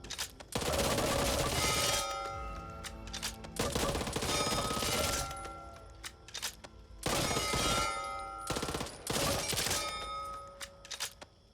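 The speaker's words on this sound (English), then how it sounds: "In the sidearm section we've got the Tech 9, which is a rapid firing pistol with a fairly low recoil." Tech 9 rapid-firing pistol in the co-op zombie shooter Back 4 Blood, loud bursts of fast gunfire in four clusters separated by short pauses, with metallic ringing and shell clinks trailing each burst.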